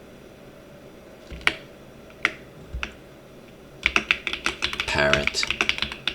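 Computer keyboard typing: a few isolated key taps, then a quick burst of rapid clicking keystrokes nearby, with a voice speaking briefly.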